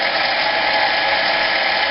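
Drill bit boring into soft steel on a Harbor Freight 7x10 mini metal lathe, a steady, loud whirring grind with a constant motor hum and no pauses.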